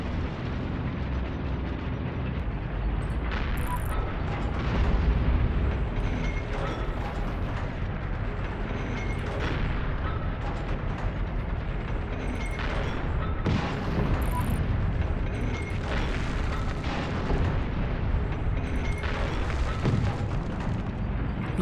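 Tank high-explosive shells in Heroes and Generals burst repeatedly amid battlefield gunfire, loud booming blasts and rattling mechanical clatter layered continuously, with brief distant crackles between impacts.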